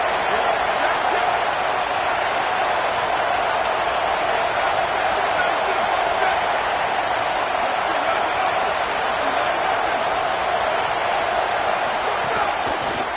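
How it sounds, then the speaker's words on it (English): Loud stadium crowd at a USC vs Washington college football game during a fourth-down defensive stand, a dense, unbroken roar of cheering that fills the whole stretch with no pauses. "This crowd busting the decibel meter and trying to will a 4th down stop."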